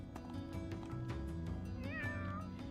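Cats meow in a video game, several mews with a higher, drawn-out meow near the end over a steady bed of game music and ambience.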